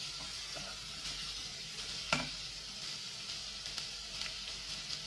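Ginger, garlic and green chili frying in a pan give off a steady, fairly quiet sizzle, with one sharper stir or clink near the middle and a few faint scrapes, close by and with no talking.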